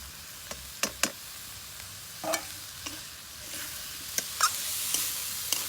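Potatoes and boiled figs frying in spice paste, stirred with a spoon that gives scattered sharp taps and scrapes against the pan over a soft steady sizzle, close by and without speech.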